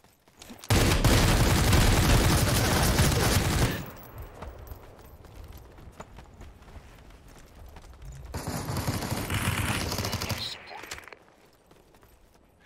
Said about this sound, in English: That Gatling gun needed to go.